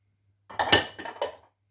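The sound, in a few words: stirring diced apples into cake batter in a bowl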